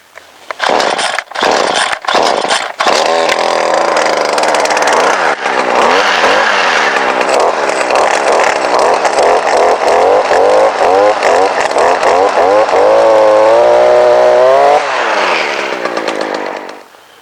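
A gas pole saw pulled to a start, then its two-stroke engine roars loud and steady while cutting through a tree limb, pitch sagging and rising under load before it cuts off.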